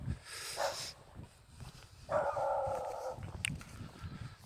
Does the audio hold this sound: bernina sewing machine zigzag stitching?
no